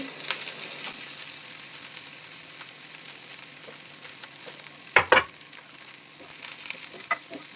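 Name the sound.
fenugreek leaves frying in oil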